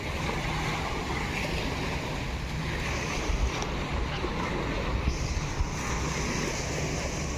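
Sea waves wash against a rocky shore in Kuwait, a steady, windy surf roar with a few louder splashes in the middle.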